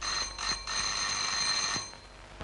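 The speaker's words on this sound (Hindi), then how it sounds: "अब ये काहे की घंटी?" A bell rings insistently in a house at mealtime, a bright sustained metallic ringing with a couple of short breaks before it fades away, heard alone without speech.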